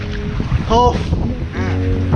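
Steady wash of wind and water around a boat at sea off the Andaman Islands, with a few voices calling out briefly over the rumbling background.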